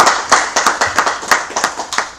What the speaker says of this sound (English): So let's give hands of applause for the speaker.